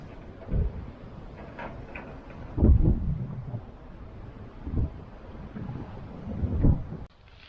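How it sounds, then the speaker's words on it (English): Low rumbles of thunder come in several rolling bursts over steady wind buffeting and rain noise. "second wave of the storm."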